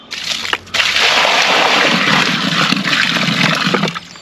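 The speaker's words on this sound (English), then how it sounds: "Then all you need to do is add some water into the hole." Water poured into a post hole before adding post mix, a loud, steady close-up gush and slosh lasting about three seconds after a brief splash at the start.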